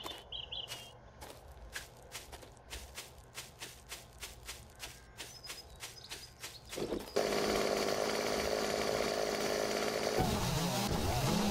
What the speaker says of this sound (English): Here's a chainsaw now.